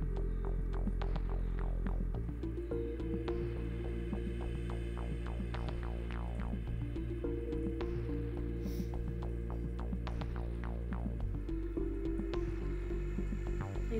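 A sewing machine stitches a blouse from an old saree, a steady low mechanical hum with rhythmic throbbing pulses of the needle running continuously at moderate volume, with no talking.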